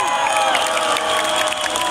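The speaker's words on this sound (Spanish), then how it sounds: "Ajmo aplauz za same sebe." A festival crowd at a live rock concert cheers and applauds in a dense, continuous roar, with whoops and high shouts rising above steady clapping, loud and sustained through the whole moment.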